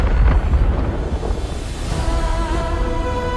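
Explosion in the Avatar: Frontiers of Pandora game trailer, a deep rumbling boom at the start that decays into a sustained low roar with tonal music swelling beneath.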